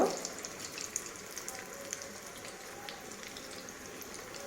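Kofta balls made with chana fry slowly in oil over a low flame, giving a faint, steady sizzle with small crackling pops after an initial louder burst.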